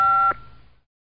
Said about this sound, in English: Dad got his mobile phone.